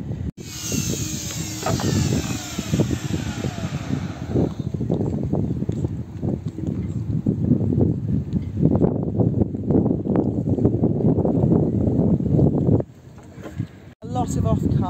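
Strong wind on a roof buffets the microphone in loud, rough gusts, with people talking underneath and occasional thumps and rattles.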